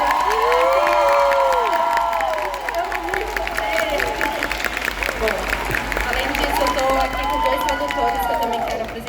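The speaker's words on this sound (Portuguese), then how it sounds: "É isso que eu ia pedir, uma salva de palmas bem brasileira." An audience at a book fair erupts in loud, sustained applause and cheering, with shouts and whoops rising over dense clapping that holds steady for about nine seconds.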